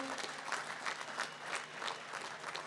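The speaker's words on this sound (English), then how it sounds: "Let's give a round of applause to all of our awardees this morning." An audience at a Commonwealth of Dominica National Day observance ceremony applauds its awardees, a moderate, somewhat uneven patter of many hands with noticeable clap surges, heard at middling distance.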